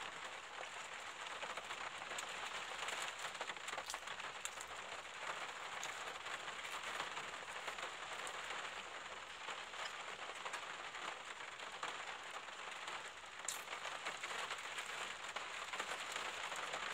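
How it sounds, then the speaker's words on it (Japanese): Steady rain falls outside, a continuous even hiss of drops on surfaces with a few faint crackles, heard alone with no talk. "音聞こえるかな、雨。"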